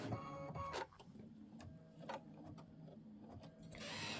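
An embroidery sewing machine stitches out a decorative stitch on a spring table runner block, a steady mechanical whir with rhythmic needle clicks throughout, up close and with no one talking.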